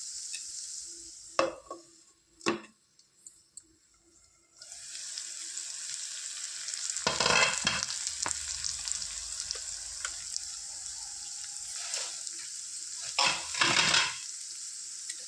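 Potato and tomato curry sizzles softly in a pan on low heat, a steady gentle hiss broken by clattering stirs and scraping bursts, with a few sharp clinks at the start.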